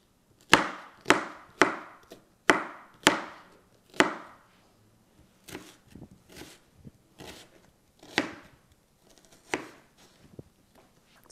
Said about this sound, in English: The easiest way to chop up an onion.